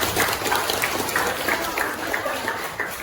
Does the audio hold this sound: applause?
yes